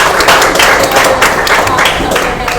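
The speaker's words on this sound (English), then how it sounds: "Please give a round of applause to our panel" Loud, dense applause and clapping from a convention audience for a keycap designer panel, a continuous close wash of claps with some crowd murmur mixed in.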